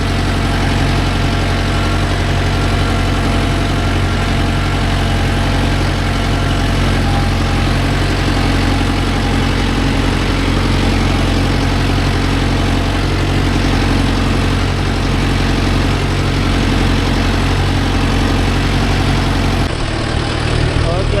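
A Mahindra Yuvo Tech Plus 585 4WD shuttle-gear tractor idles in a field with a 5-point cultivator, a loud, steady low diesel rumble and vibration, with a slight shift near the end.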